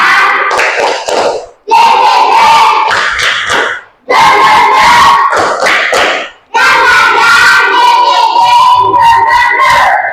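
A group claps together in a fast rhythmic spirit clap, loud and close, during a teacher training session, in several bursts separated by short pauses, with a few voices joining in.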